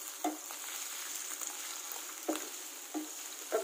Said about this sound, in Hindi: 5 से 7 मिनट तक हमने इनको फ्राई करना है